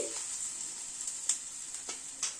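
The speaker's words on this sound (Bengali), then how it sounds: "রসুন আর কালো জিরেটাকে একটু নাড়াচাড়া করে নিচ্ছি।" Crushed garlic and black cumin seeds are stirred in hot oil in a pan, giving a steady soft sizzle with a few brief scraping clicks from the spoon.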